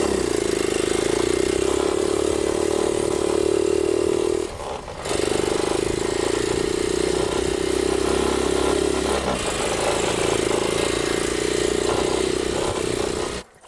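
A motorcycle shipped from Japan in a 40-foot container runs steadily and loudly close by, its engine note holding even apart from two brief dips where it stumbles or the throttle is eased, with no voices over it.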